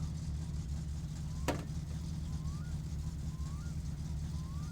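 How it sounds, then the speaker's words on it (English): A steady low car engine hum in the video game My Summer Car runs throughout, with a brief sharp burst near the start and faint rising chirps in the background. "Okay, car's running fine."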